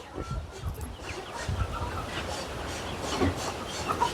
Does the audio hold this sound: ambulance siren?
no